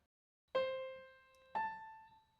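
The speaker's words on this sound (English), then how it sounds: "That's the sound of my rice cooker finished" A two-note electronic chime from a rice cooker finishing, clear and bright, each tone ringing out and slowly fading, with silence before it.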